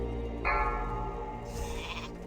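A sheep bleat from the Polymorph spell in World of Warcraft rises briefly mid-clip and returns near the end, set against a steady bed of game sound in a Naxxramas raid.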